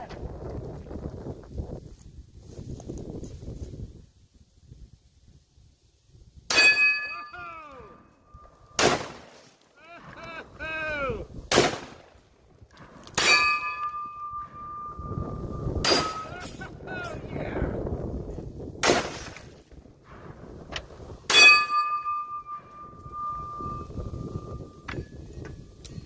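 AR-15 rifle fired outdoors at steel plates and frozen milk jugs of ice; about eight sharp, loud shots spaced irregularly, some with a ringing metallic ping from the steel, with wind and low voices between them.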